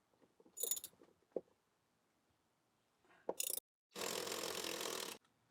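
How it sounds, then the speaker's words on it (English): A ratchet with a 13 socket works a rear seat bolt loose in a 2022 Ford F-150, short quiet clicks and a sharp crack, then a longer burst of steady rapid ratcheting, close and alone. "Using a number 13 on the socket, we're going to get in here and break it loose."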